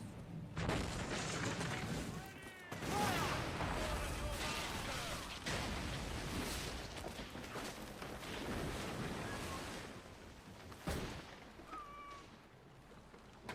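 Ship cannons fire in Assassin's Creed Black Flag as heavy booms mixed with ocean wash and shouting crew voices, with several blasts spread through a busy, noisy battle scene.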